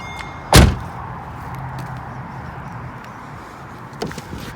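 Retractable hardtop of a red 2007 Mercedes-Benz SL550 roadster folding down: a sharp mechanical thunk, a low steady whir, then a second lighter clunk as the roof settles.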